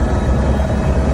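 A helicopter flying over Mount Ogden gives a loud, steady, broadband rotor-and-engine roar, close and continuous throughout with no other sounds.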